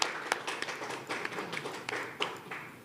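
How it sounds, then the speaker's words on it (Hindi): Light, scattered clapping at an award show ceremony, faint and somewhat distant, with a handful of distinct sharp claps popping out over a thin, uneven patter from a small group. "तालियां हो जाए उनके लिए।"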